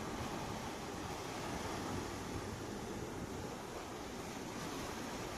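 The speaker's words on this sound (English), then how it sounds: "The ocean moves," Ocean surf on the Sri Lanka shore, a steady wash of breaking waves with wind noise, continuous and fairly distant, no voices.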